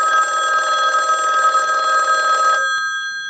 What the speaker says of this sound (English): Now what we can do is we'll send another ring cycle like you were getting a call.